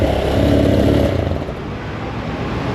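A nearby Racal Motofino XRE 250 motorcycle engine on its first start runs with a loud rumble that drops off after a second, settling into a quieter, lower idle.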